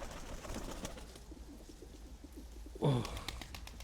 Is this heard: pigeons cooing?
yes